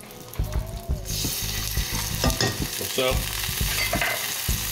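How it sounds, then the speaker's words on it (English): Minced garlic and sun-dried tomatoes sautéing in a pan, loud close sizzle with repeated utensil scrapes and clicks, a brief spoken remark near the start. "we're just gonna stir this around for about 30 seconds until it gets fragrant"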